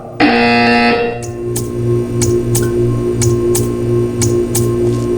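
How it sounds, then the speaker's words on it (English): A short harmonic buzz opens, then a low repeating buzzer drone from the game Portal 2 pulses steadily, punctuated by sharp periodic clicks, fairly loud and close. "You will hear a buzzer."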